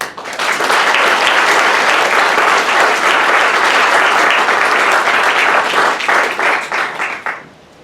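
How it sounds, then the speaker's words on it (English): Sustained applause from a crowd, loud and dense, with hands clapping steadily for several seconds before thinning out and stopping. "just give us another round of applause for Drs. Gross and Johnson"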